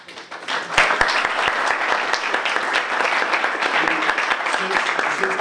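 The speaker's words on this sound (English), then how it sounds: "let's give them a round of applause" Audience applause at a venture day presentation, sharp individual claps swelling into a sustained, fairly loud round of clapping from a crowd, with some voices underneath.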